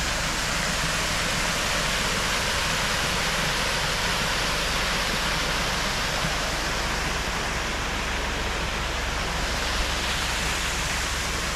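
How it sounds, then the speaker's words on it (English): A waterfall pours in a continuous, loud, broadband roar of falling water, steady and unbroken from start to finish with no voices. "Very, very beautiful waterfall here."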